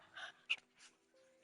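A dog pants close by in a few quick, soft huffs and breaths with one sharper exhale, fairly faint in a quiet room.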